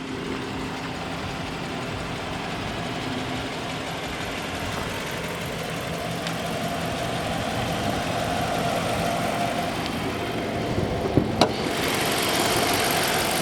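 A 5.7-litre HEMI V8 engine in a 2015 Dodge Charger police car idling steadily with a low rumbling throb, close by, with a brief clunk near the end and no voices.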